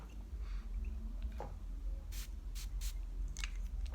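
Several quick hissing sprays from a Zara Man Silver fragrance bottle, close and fairly soft, spaced a few tenths of a second apart with no talking.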